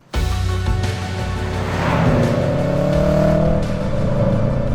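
A 2004 Subaru Impreza WRX's 2-litre EJ flat-four engine revs hard, its loud, throbbing boxer note climbing steadily in pitch across a few seconds, up close and with no talk.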